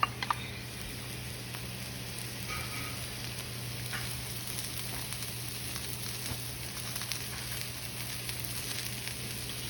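Mushrooms sautéing in a little oil for beef lo mein, a steady, soft sizzle and crackle over a low hum, even and continuous throughout, quiet and close.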